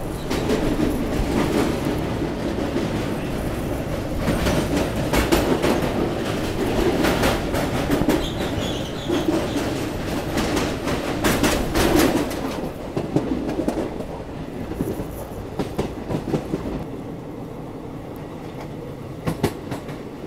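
The Himsagar Express passenger train runs along with a steady rolling rumble and rhythmic clickety-clack of its wheels on the rails, heard from inside, with faint birds and no talking.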